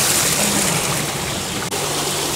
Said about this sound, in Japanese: もうすでに水の音がすごいんやけど